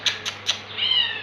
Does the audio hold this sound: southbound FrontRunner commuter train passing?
no